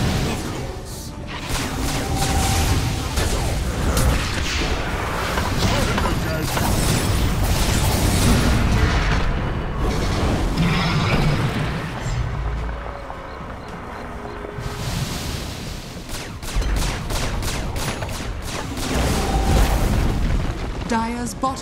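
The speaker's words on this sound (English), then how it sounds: "Dire's bottom tower is under attack." Dota 2 match audio with repeated booming impacts, bursts and whooshing attack effects as a tower comes under attack and is destroyed, loud and continuous with game voice announcements over it.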